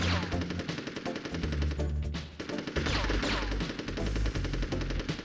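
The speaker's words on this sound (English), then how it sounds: "this machine gunner is really giving me more trouble than he's worth" Enemy machine gun fire in the video game Army Men: Sarge's Heroes: rapid, continuous rattling bursts mixed into dense game sound and music, fairly loud throughout, with no talking.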